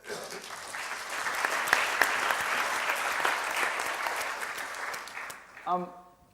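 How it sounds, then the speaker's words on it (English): An audience at a talk gives a steady round of applause that stays even for several seconds and then stops abruptly, followed by a brief murmur of voices. "A round of applause."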